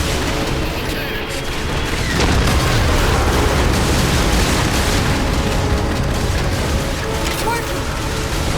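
Ship cannons fire in the video game Halo 4, a dense barrage of loud booms and blasts over a continuous roar, with game voices mixed in.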